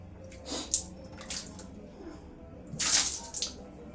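Water splashes and pours in short bursts while a pet is bathed, close by, with a louder gush near the end and faint voices in the background.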